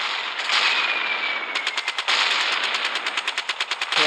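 Machine gun fire in the Gunship Battle video game: a sustained burst of rapid rattling shots, then a rhythmic run of evenly spaced bursts, loud and close with no talk.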